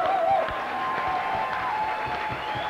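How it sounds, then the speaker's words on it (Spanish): A studio audience on a 1997 Spanish television programme applauds and cheers, a moderate wash of clapping with crowd noise throughout, somewhat distant and steady. "Un aplauso, bravo."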